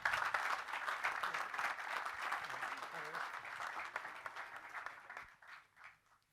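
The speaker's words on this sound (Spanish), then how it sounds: "Les pido un fuerte aplauso para recibir a Gonzalo." Audience applause welcoming a speaker at a talk on livestock's environmental impact in Uruguay, steady clapping with some voices mixed in, gradually thinning and fading out near the end.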